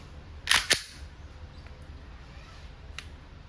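Two sharp airsoft Glock 17 Gen 5 shots fire in quick succession through a chronograph, with a fainter third snap about two seconds later, all over quiet background hiss.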